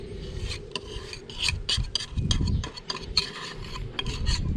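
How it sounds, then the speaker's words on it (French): A spoon scrapes and stirs raspberry crumb cake batter with melted butter in a bowl, a close, continuous wet rasping with rhythmic strokes and no voices. "Et on mélange."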